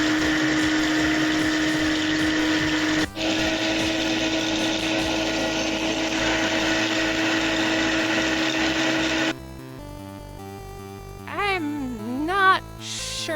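A blender loaded with broken glass roars steadily at high speed, the motor dropping briefly before resuming, then cutting to a lower grind with whining pitch swings near the end; no talking.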